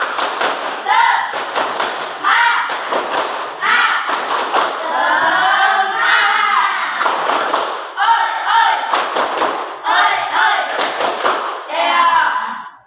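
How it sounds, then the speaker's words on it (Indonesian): A class of children in a school classroom does a rhythmic spirit clap together, with bursts of sharp, close claps in set patterns between stretches of children chanting or singing. "kita mengadakan tepuk semangat sama-sama ya"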